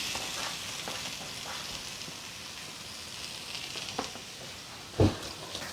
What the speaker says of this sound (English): you can put some carrot and fry together with onion and beets